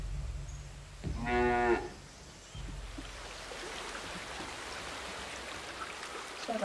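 A cow in the Dawn of Man video game lets out one short, low moo, loud and near, over a steady, soft ambient hiss like running water.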